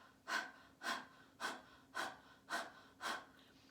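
A person imitates a dog panting with tongue out, producing six evenly spaced, breathy huffs at about two per second, close and alone.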